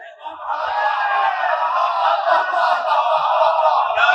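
Mourners at a Shia majlis in Mughal Masjid raise the Nara-e-Haidari together, a dense, steady roar of many voices chanting in unison for a few seconds, loud and close.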